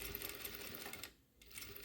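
A sewing machine stitches fabric in a quick, even run of needle strokes, pausing for a moment before resuming briefly, faint and with no talking.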